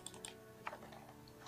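Light clicking of computer keyboard keys at a desk, a few quick faint taps, with a quiet hum beneath.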